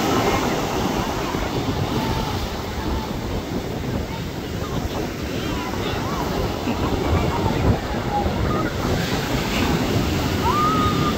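Ocean surf rolling in continuously at Rehoboth Beach, Delaware, a steady broad wash with wind buffeting the microphone; faint voices sit low under the waves.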